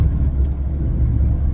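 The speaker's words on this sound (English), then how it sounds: "I'm gonna let this truck go ahead of me" A truck rumbles along the road nearby, a loud, steady low engine drone that fills the moment with no voices.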